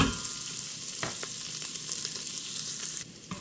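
Bacon frying in the pot of an Instant Pot, a steady dense sizzle throughout with a couple of brief stirring scrapes, loud and close, no voices.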